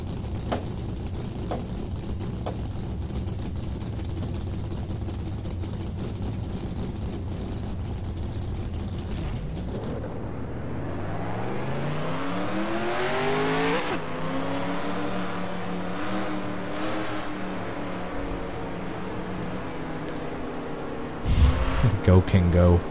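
Race car engines in the NASCAR Racing 2003 video game start up and rev, a dense roar of many motors with a rising pitch sweep as revs climb, continuous and loud throughout.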